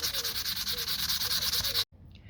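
Sandpaper rubs an old plastic number plate holder during paint prep, in quick, even back-and-forth strokes, close and steady, that stop abruptly near the end.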